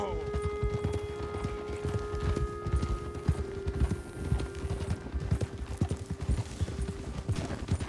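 Horse hooves clip-clop at a steady walking rhythm in Red Dead Redemption 2, a close, regular beat of hoof strikes under a low hum, with characters talking over it.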